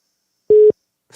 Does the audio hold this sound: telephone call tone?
yes